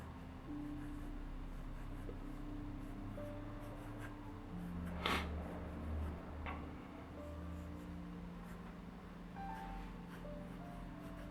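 Pencil retouching a sketch on paper, a faint close scratching and rubbing that comes and goes over a low steady background hum.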